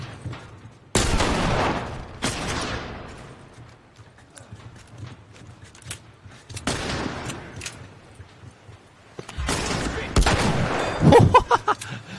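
Gunfire in The Last of Us Remastered, several loud bursts of shots separated by quieter stretches, with galloping hoofbeats and game sounds around them.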